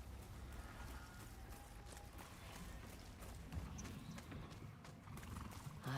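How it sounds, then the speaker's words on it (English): A horse in a video game neighs and its hooves clip-clop steadily at the stables, the animal sounding close and fairly quiet against a low background rumble. "Your horse is at the stables."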